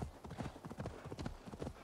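Hooves clip-clop in a quick, even rhythm from a horse ridden in the video game Assassin's Creed Valhalla, close and continuous throughout.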